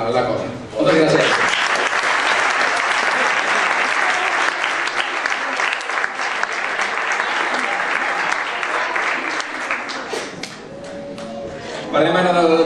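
A crowd at a local sports awards ceremony in Esparreguera breaks into long, loud, sustained applause, with a brief voice heard at the start and again near the end.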